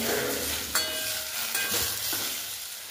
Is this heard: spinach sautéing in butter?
yes